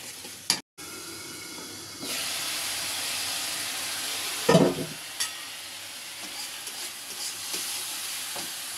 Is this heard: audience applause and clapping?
no